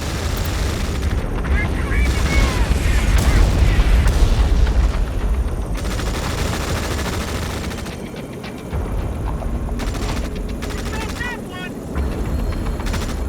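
Gunfire and explosions in the video game Tom Clancy's EndWar, repeated booms and bursts of shots with a sustained rumble, loud and continuous, under voiced radio chatter.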